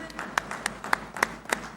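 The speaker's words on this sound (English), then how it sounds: "Let's make sure our guests behind us are able to hear your applause." Scattered hand claps from an audience at a Google data centre groundbreaking ceremony in Visakhapatnam, a few sharp claps over a soft, murmuring background.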